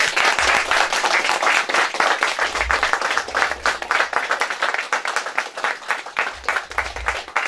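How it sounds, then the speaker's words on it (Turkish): Audience applause at a Turkish workshop gathering: dense, sustained clapping from a crowd filling the room, steady and loud throughout with a few low thumps underneath. "hep beraber birbirimizi alkışlayalım inşallah"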